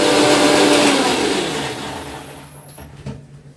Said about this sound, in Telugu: ఇప్పుడు నా మమ్మీ మిక్సీ పెట్టేసింది